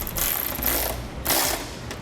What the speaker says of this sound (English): then we'll tighten down those cap head bolts